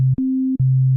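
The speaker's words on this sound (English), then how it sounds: "it's a sine wave, so no harmonics, just the fundamental" Pure sine tone from a Waldorf Quantum/Iridium synthesizer, played as a clean steady note that briefly steps up in pitch and then drops back to the original level, with no overtones.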